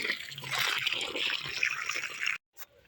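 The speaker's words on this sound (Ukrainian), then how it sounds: "отак от заливаю, друзі і все впитається, і потім загрібу" Water poured from a container onto garden soil around freshly planted tomato seedlings, a close, steady splashing trickle that stops abruptly, followed by a brief faint drip.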